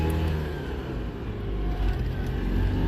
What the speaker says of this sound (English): We're gonna put it back into first gear here and take off